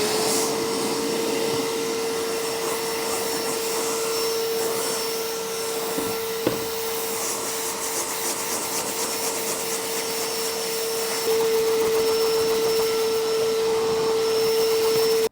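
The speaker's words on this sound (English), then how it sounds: "You can simply wipe it clean, or you can use a vacuum" A vacuum cleaner runs continuously with a steady whine, close by, its tone shifting slightly as it sucks up dust from an IKEA TINGBY side table, with a brief knock midway.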